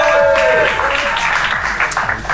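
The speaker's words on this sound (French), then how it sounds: "Un tonnerre d'applaudissements pour Josh McDonald." Audience applause for a player at a competition's closing ceremony, a dense wash of clapping with a brief voice or tone at the start, fairly loud and sustained.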